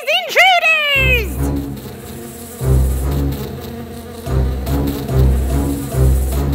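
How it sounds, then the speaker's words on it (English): Giant stinging bees swarm in a children's bedtime story of the Wizard of Oz, a buzzing drone that swells in repeated waves after a brief high cartoonish cry at the start. "Dorothy and her friends saw the bees flying towards them"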